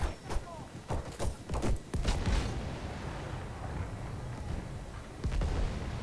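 A field gun fires in the Battlefield 1 multiplayer game, a series of sharp booming shots and thuds early on, followed by a lingering rumble and one more hit near the end, all fairly quiet.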